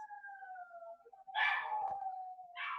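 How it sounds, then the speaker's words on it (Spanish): Dogs howl in long wavering tones, with a burst of barking joining in, somewhat distant and fairly loud, with no voices over them. "parece que los perros están como locos."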